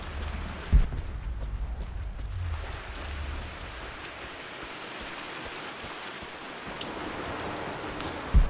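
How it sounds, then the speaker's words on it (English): Rain patters on a ceiling overhead in Rise of the Tomb Raider, a quiet, steady hiss of drops broken by a couple of sharp low thuds near the start and end. "The raindrops hitting the ceiling."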